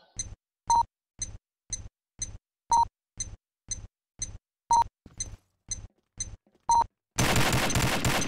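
Rapid bursts of automatic gunfire in a first-person shooter match, a dozen evenly spaced short volleys ringing out loud and close, followed by a dense, noisy wash of sound at the end.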